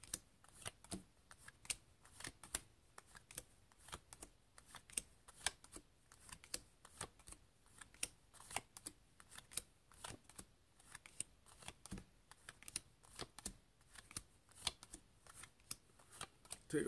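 A deck of playing cards is dealt through one at a time for a card trick, giving a long run of quick, crisp flicks and snaps at an even pace, close and fairly quiet.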